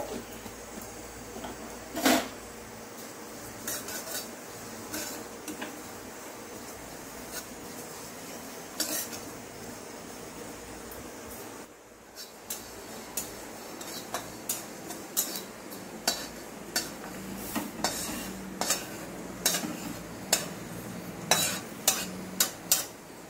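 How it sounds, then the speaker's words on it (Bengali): Sesame seeds dry-roast in a kadai, a steady faint rustle broken by repeated spatula scrapes and ticks against the metal, growing more frequent and rhythmic toward the end. "তিলটা দিয়ে দিলাম কড়াইতে, একটু হালকা করে ভেজে নেবো।"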